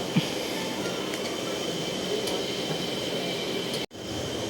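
A passenger train from Tiruvannamalai to Tirupati gets under way from a small station, giving a steady, close rumble of wheels and carriage noise that holds evenly throughout, broken by one brief dropout near the end.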